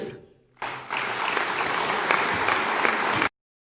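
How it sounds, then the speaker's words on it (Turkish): An audience gives a standing ovation after a speech by an association president, with sustained loud, dense clapping from a large indoor crowd that cuts off abruptly. "EYT Dernek Başkanı Sayın Gönül Boran Hanım yaptığı konuşma ayakta alkışlandı."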